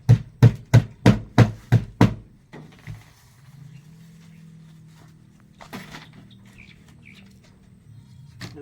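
Six sharp, loud hammer blows in quick, even succession while a septic tank cover and flooring are being laid, followed by a quieter stretch with a low hum and a few faint knocks.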